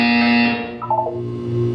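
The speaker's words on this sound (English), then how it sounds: "You will hear a buzzer. When you hear the buzzer, look down at the floor." Buzzer in the video game Portal 2, a single loud electronic tone that holds for about half a second, then bends and fades into a lower lingering hum.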